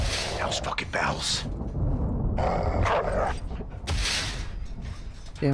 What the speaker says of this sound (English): Damn dog up there.